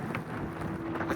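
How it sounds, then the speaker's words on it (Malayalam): Wind gusting across a microphone on a mountain trek to Agasthyakoodam, a steady broadband rush that stays loud and unbroken for the whole moment, with no other clear sounds. "ഇവിടെ തന്നെ അത്യാവശ്യം നല്ല അടിപൊളി കാറ്റാണ്"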